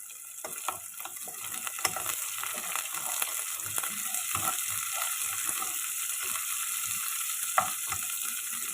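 Green chillies and curry leaves fry in a pan for a Kerala-style moru curry (pulisheri), giving a steady, close, continuous sizzle and crackle with occasional stirring clicks and no talking.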